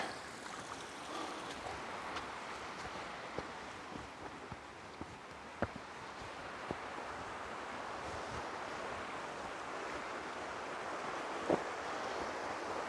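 Water running and trickling down rocks in Ricketts Glen State Park, a steady broadband wash that continues unbroken with a few faint knocks and clicks, heard alone with no talking.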